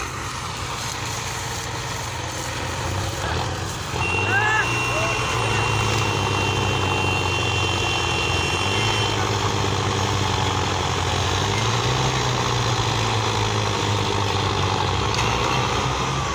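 Four tractors and a JCB strain together to pull a stuck sugarcane trolley, their engines droning loudly and steadily with rising revs partway through, while people talk over the noise outdoors.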